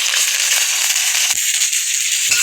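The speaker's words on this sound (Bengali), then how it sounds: "এই গরম তেলের উপর আমি এখন দিয়ে দেবো অল্প কালো জিরে, দিয়ে দিচ্ছি চেরা করা কয়েকটা কাঁচা লঙ্কা এবং কুচে রাখা পেঁয়াজ" Nigella seeds, slit green chillies and chopped onion dropped into hot oil give a loud, continuous bright sizzle with scattered crackles and pops, close up and alone.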